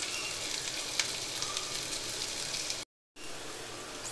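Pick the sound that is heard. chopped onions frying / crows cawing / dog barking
chopped onions frying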